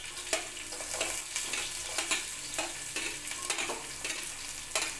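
Amaranth greens and moong dal fry and sizzle steadily in a pan with repeated stirring scrapes, close and alone with no voices.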